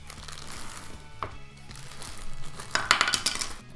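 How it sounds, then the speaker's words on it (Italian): Cheap 100-yen scissors snipping open a cardboard and plastic figure package, with scattered crinkling and sharp clicking cuts that grow busier and louder toward the end. "Andiamo ad aprire con le nostre forbici"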